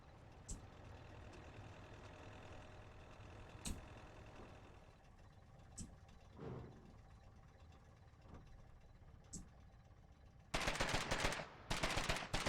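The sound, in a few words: gunfire in the video game Foxhole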